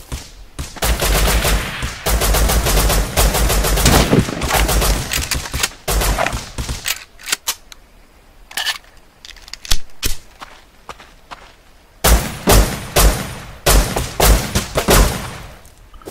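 Gunfire in the survival video game Rust: rapid automatic bursts and single shots come in loud clusters separated by quieter stretches with footsteps and thuds.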